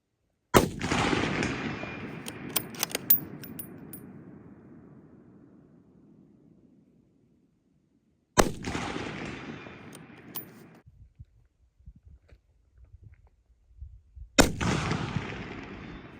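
Three loud rifle shots from a scoped scout rifle fired at a 200-yard target outdoors, each a sharp crack followed by a long rolling echo that fades over several seconds, spaced widely apart with no talking.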